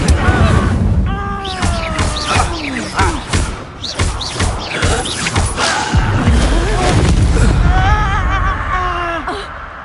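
A Stupefy spell is cast in the Hogwarts Legacy video game during a duel, with magical bursts and heavy thuds and booms. Voices gasp and groan over the busy, loud combat.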